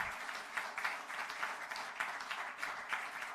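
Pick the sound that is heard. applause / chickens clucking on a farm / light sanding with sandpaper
applause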